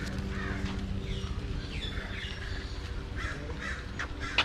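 Birds calling at the San Diego Zoo: repeated harsh, crow-like caws and sharper chirps ring out at mid distance over a low, steady background murmur.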